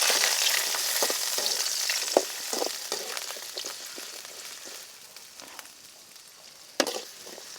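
Chopped small onions (shallots) sautéing in a hot pan, a dense crackling sizzle that gradually softens, with a few sharp stirring knocks and no talking.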